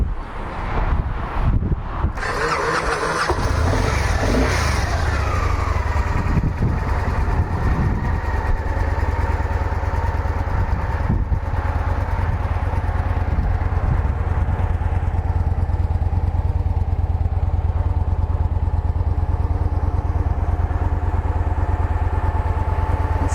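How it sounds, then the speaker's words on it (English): Starting up, a 2008 Victory Vision air-cooled V-twin motorcycle engine cranks and catches in a few seconds, then settles into a loud, steady, close idle that runs alone for the rest of the clip. "Let's fire this baby off and see what she sounds like."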